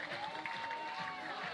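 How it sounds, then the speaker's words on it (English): A baseball crowd at a Hays Larks versus Dodge City A's game gives a sustained standing ovation for a home run, with steady applause and cheering that holds loud and even throughout. "another standing O from the crowd"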